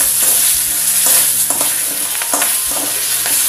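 Spices and slit green chilies fry in a pan for a Bengali eggplant and parshe fish curry, giving a steady close sizzle broken by scraping stirs, with no voices.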